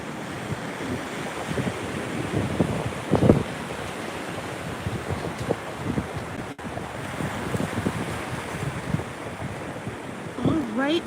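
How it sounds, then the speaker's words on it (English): Surf rolls and breaks on Tables Beach at Patrick Space Force Base in Florida, a continuous washing roar with wind buffeting the microphone and a few louder bursts, no talk. "With just like waves are crashing and the birds and all that."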